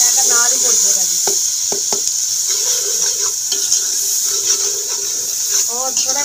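Masala spices fry in a pan with browned onions, a steady hiss and sizzle running throughout, with someone talking over it and a few faint utensil clinks.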